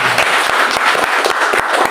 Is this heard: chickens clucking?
no